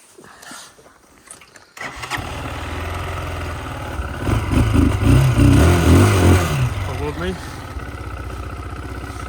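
A small motorcycle engine cranks briefly and catches, then runs up into a loud, rough rumble that settles back toward idle, close by, with someone talking over it.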